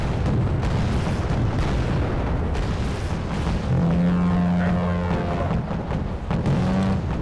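Artillery ships firing in the video game Wargame: Red Dragon during a naval battle, a loud, continuous barrage of deep booming blasts that blur into a heavy rumble with faint tonal droning, and no talking.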